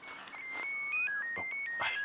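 A phone rings with a bright, warbling electronic tone that repeats and shifts pitch over two seconds, moderately loud against a faint background of movement.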